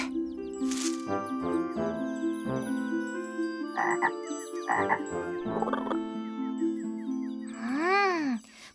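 A cartoon frog in a children's animated show croaks in a series of short, bouncy tonal calls mixed with tinkling chimes, ending in a warbling, swooping croak.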